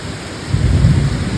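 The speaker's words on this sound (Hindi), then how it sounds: "हो रही है बहुत तेज बारिश" Heavy monsoon downpour with thunder, a dense steady hiss of rain swelling into a deep low rumble of thunder midway, loud and continuous with no voices.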